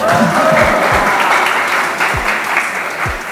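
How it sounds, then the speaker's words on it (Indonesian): Dense, sustained audience applause at a student council leaders' event in Indonesia, with low thumps cutting through the steady clapping. "Tidak bagus, tidak usah tepuk tangan."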